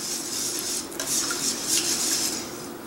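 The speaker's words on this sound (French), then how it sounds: "Je vais y ajouter ma margarine et mon lait. Je mélange le tout avec un fouet" Margarine and milk are whisked together in a bowl, a steady scraping clatter of a whisk against the bowl running throughout, close and moderately loud with no talking.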